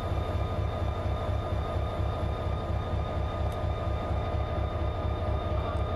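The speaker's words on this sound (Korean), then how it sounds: "자, 잠시 후 우리 열차가 북쪽 한문역으로 출발할 예정입니다." A train waits to depart on the inter-Korean railway, giving off a steady, rhythmic low idling rumble with a constant mechanical hum and no voices.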